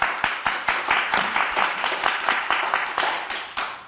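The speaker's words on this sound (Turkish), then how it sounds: "Bize bir moral alkışı lütfen." A TV quiz show studio audience applauding steadily, many hands clapping in a dense, even patter that holds for several seconds without talk.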